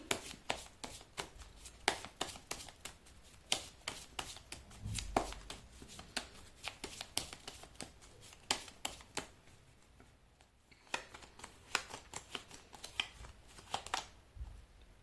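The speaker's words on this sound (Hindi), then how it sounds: "मैं कर लेती हूँ कार्ड की शफलिंग।" A deck of tarot cards is shuffled by hand, giving a rapid series of crisp riffling and slapping clicks, near and fairly quiet, with brief pauses between bursts and no talking.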